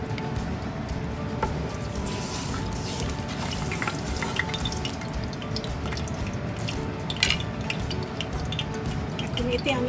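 Oil heating in a wok, a continuous low sizzle and crackle with scattered small pops, moderately quiet and close.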